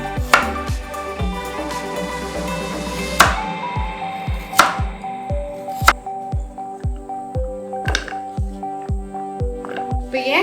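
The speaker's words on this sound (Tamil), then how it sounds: "இப்போ வந்து நம்ம கேரட்டை நறுக்கிடலாம்." Close, steady knife chops through carrots on a cutting board, a dozen or more sharp strikes in an even rhythm with a few brighter clinks mixed in.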